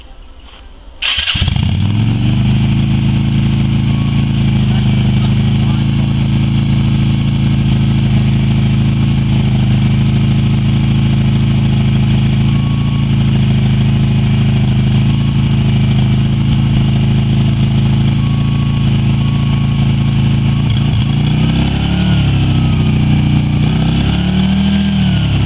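Yamaha Virago XV250 motorcycle, revived after six years in storage, starts up and settles into a loud, steady close-up idle with a slight uneven lope toward the end; no speech.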